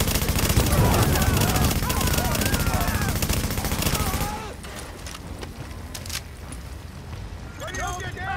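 Gunfire in The Division video game at a police academy, with rapid automatic bursts forming a loud, dense barrage under shouted voices, then easing to sparser shots and echoes.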